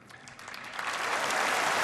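Audience applause at the Kennedy Center Honors, a broad roar of clapping from a large crowd that swells steadily louder over a couple of seconds.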